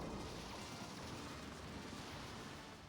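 Rain spell effect from the Final Fantasy 1 video game, a steady wash of hissing, rushing noise like heavy rainfall or surf. It holds at an even loudness for about three seconds, with no voices.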